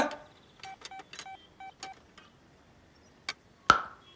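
A telephone is dialed with a quick run of tones, about seven short beeps in an uneven rhythm, followed by a couple of clicks and a sharp knock.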